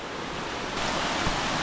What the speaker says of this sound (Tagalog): Ari po yung talon ng tubig kupyas